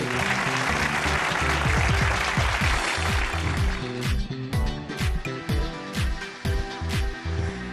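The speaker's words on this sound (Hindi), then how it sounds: "बहुत सारी तालियां इन दोनों के लिए" A studio audience claps at an Eid television show, with thick, sustained applause that thins into scattered claps while faint music plays underneath.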